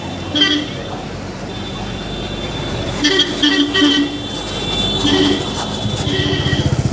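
A congested street outside a fair, with several car and bus horns tooting in short bursts over a steady traffic din, and a person speaking at times.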